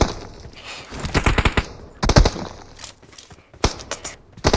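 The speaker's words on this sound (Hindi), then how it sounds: "मुझे पीछे से फायर आ जाते हैं" Bursts of automatic gunfire in a PUBG match on the Erangel map, several rapid volleys with short gaps between them, loud and close with no speech.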